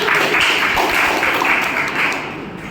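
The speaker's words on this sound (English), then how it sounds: "Oh yes, clap please." Meeting audience at a Toastmasters session applauding together, a dense, steady wash of clapping hands that holds loud for most of the stretch and then begins to thin and fade near the end.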